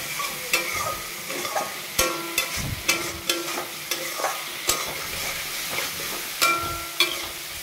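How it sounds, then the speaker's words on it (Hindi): Turmeric powder being stirred into a frying potato and spinach curry: a spoon scrapes and knocks against the pot in a steady rhythm of sharp taps over a continuous low sizzle, close and alone without talk. "हल्दी पाउडर डालने के बाद इसे अच्छे से मिला लेना है।"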